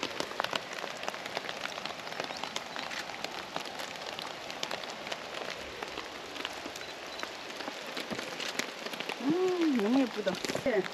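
Steady rain patters on a mountain trail lined with pasqueflowers, a dense continuous hiss of drops on surfaces, with people chatting in the background and a brief whistling tone near the end.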